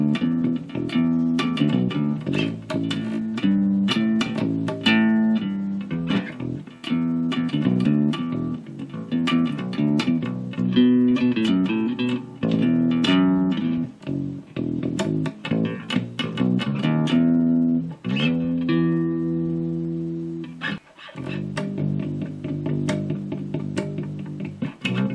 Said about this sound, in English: I'm just playing through a little Roland micro cube amp.